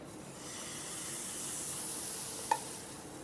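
Dosa batter sizzles on a hot pan, a steady broad hiss that swells slightly and holds, with one brief click near the end and no voices.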